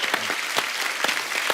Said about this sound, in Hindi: कार्तिक की मम्मी जी भी यहाँ पे मौजूद हैं, इनके लिए जोरदार तालियां हो जाए एक बार